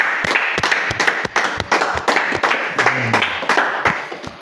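A congregation at a church gathering in Yaoundé claps together in a brisk, steady rhythm, with sharp, evenly paced hand claps continuing throughout and a faint voice briefly audible underneath.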